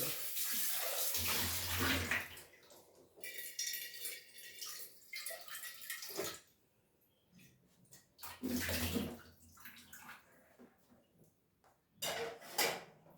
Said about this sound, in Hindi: दूध का भगोना भी धो लेते हैं।